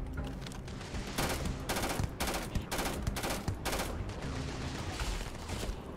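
Maelstrom gun fire in Starfield: a run of loud, sharp bursts at an uneven rhythm, some spaced apart and some clustered, over steady game ambience.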